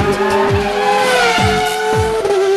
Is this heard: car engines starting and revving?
yes